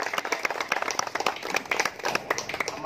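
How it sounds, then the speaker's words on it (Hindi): A crowd applauds at a prize distribution for a January 26 tournament, with dense, steady clapping from many hands that carries on without a break and no voices over it. "जोरदार तालियां भाई।"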